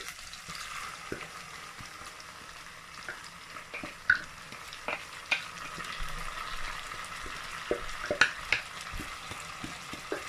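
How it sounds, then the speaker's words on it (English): Roughly blended pepper is added to a frying pan and stirred for efo riro, a soft continuous sizzle with scattered scraping clicks of a spoon, close and low in level. "Okay, so now I'm going to add my pepper that I blend."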